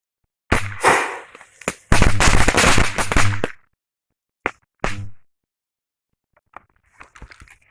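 BB gun shots hitting matchbox targets set on a wood pile, the match heads going off in crackling, fizzing flare-ups: a long sputtering burst, then shorter pops, followed by faint rustling outdoors.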